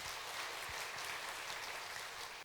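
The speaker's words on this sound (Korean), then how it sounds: "하나님께 우리 박수라며 영광 올립시다." Church congregation clapping in worship, a dense, steady wash of applause at moderate distance that fills the room for a couple of seconds, then cuts off.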